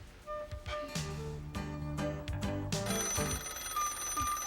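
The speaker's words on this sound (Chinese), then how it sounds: "爸，这是你的电话。" A telephone rings indoors in a family home, giving repeated bell-like trills with short gaps, moderately loud and heard alone with no talk.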